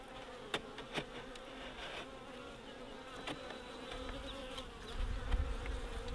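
Honeybees hum around an open hive in a far-north backyard apiary, a faint, continuous buzz with occasional nearer fly-bys and soft handling clicks and knocks.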